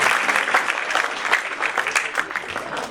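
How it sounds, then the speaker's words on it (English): A hall audience at an inter-school quiz contest grand finale claps for a quiz team, a dense, steady round of applause with no talk over it. "A louder round of applause,"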